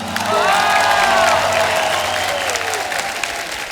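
Loud, sustained applause from a comedy show studio audience, steady clapping throughout with some cheering and a faint melodic tone drifting above it.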